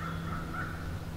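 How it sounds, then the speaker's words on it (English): An American crow caws outdoors in a short, faint, raspy call, heard against a quiet steady background during summer birding in Southern Ontario. "not northern crow, it's the American crow."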